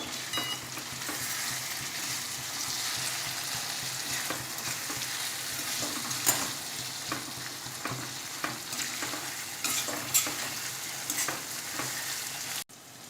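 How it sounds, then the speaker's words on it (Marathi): Masala being stirred into ridge gourd frying in a pan, a steady close sizzle with repeated scraping and clinking of the spoon against the pan, no voices. "त्यासोबत हो उरलेला मसाला घालूया मिक्स करून घेऊया आपण"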